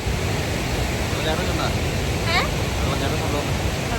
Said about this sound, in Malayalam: ഇത് യോർക്ക്ഷയർ ഡെയിൽസിലുള്ളൊരു അടിപൊളി വാട്ടർഫോൾസാണ്